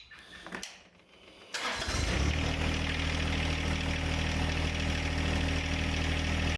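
A John Deere 1025R compact tractor engine cranks and catches, then settles into a steady, loud idle that runs on without a break.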